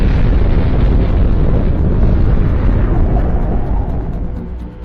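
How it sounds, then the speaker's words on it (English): A deep, roaring rumble sustains like a massive atomic bomb blast, heavy and continuous, slowly fading toward the end. "This nuclear chain reaction causes a tremendous explosion."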